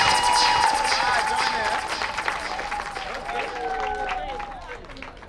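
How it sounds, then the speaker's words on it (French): Guests at a customary wedding ceremony clap while chatter and excited voices ring out over the scattered applause, which fades a little toward the end. "Applaudissez pour John"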